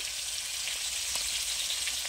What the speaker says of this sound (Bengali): এই যে দেখুন, মাছ ভাজা বসিয়ে দিয়েছি, 5 পিস মাছ দিয়েছি